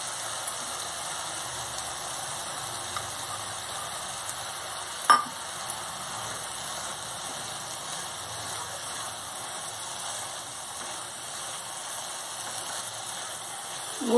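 Jaggery goes into pumpkin gharge batter and is stirred through, giving a steady soft scraping and mixing sound with one brief knock partway through, close by and without talk.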